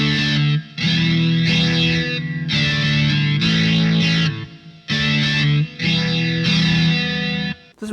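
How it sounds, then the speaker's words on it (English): An electric guitar runs through a Sonicake QGT-01 effects unit with a spatial, shimmering, reverb-like effect set to maximum. Loud sustained chords ring in long swells with brief gaps between them, and no voices are heard. "It's kind of a spatial, spangly effect."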